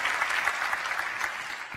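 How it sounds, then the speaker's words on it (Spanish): A church congregation applauds during a worship service, a short burst of steady, moderately distant clapping from many hands throughout. "Denle un aplauso al rey"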